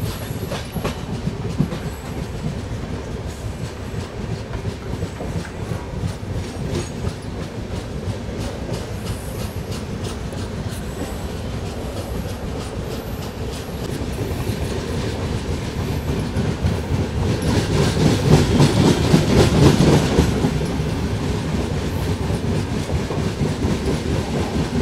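An Indian Railways express hauled by a WAP-7 electric locomotive rolls into a station platform, a steady rumble of wheels with rhythmic clickety-clack and a brief swell of louder rolling noise near the end.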